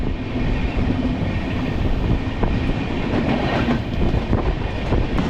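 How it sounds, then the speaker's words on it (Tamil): An EMU commuter train on the Chennai to Sholinghur route rushes along at speed, a steady loud roar of wheels and rails with faint rhythmic clatter, no voices. "நல்ல ஒரு ஸ்பீடில் தான் ட்ரெயின் இப்போ போயிட்டுருக்கு"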